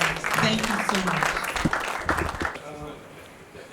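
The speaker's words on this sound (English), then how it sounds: "could you all please help me give a warm round of applause to Dr. Barnabas" Many hands clap together in a conference hall after a panel session, a continuous dense round that fades toward the end, with an amplified voice speaking over it.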